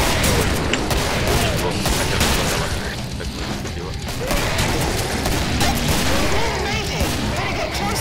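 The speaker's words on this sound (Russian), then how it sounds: "Граната." A grenade blast rips through a chaotic Killing Floor firefight, a dense, loud wall of booms and rapid gunfire that never lets up, with players talking over the din.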